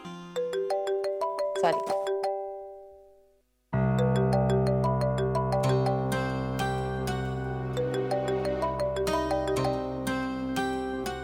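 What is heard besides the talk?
phone ringing, call not picked up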